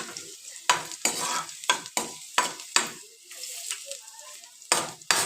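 Garlic cloves fry in a pan alongside green and dried chilies, giving a series of sharp sizzling bursts as they are stirred and tossed in the oil, with quieter crackling between the strokes.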